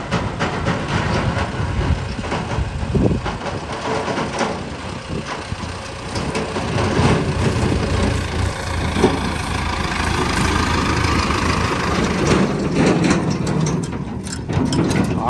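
A tractor engine rumbles steadily at idle at a loading site, a continuous low drone with broadband noise and a few clanks, fairly loud and close throughout.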